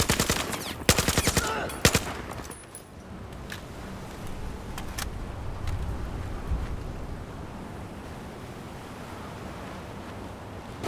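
Rapid bursts of gunfire in Battlefield 4, set in Singapore, crack in the first couple of seconds, then a few scattered shots ring out over a low rumbling background.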